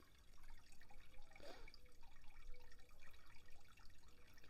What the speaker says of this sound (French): Vous pouvez écouter le bruit de l'eau.